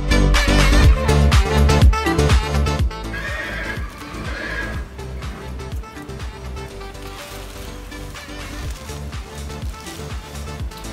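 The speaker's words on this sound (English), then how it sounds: "here's a few clips of Lime in her stall" A pony in her stall at the Kentucky Horse Park during Pony Finals, whinnying loudly nearby amid a busy run of hoof clops and stomps on the stall floor.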